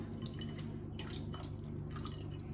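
Homemade butter squeezed by hand in a bowl of cold water to press out buttermilk, giving steady wet squelching and sloshing with light clinks against the bowl, continuous and close.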